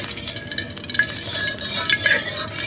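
Cauliflower being stir-fried in oil on a stove in a chilly winter setting, giving a steady broadband sizzle with scraping and stirring clatter throughout.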